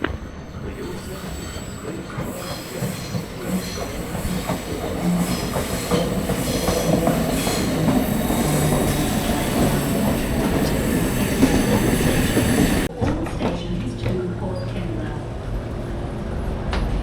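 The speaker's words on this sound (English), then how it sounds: "here comes our train to Austinmer." A train rolls into a station on the line to Austinmer loudly with rumbling wheels, clattering and squealing for several seconds before the noise suddenly drops as it settles.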